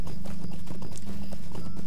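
Horse hooves clip-clop in a steady, fast rhythm in the Lord of the Rings Online video game, heard close and alone.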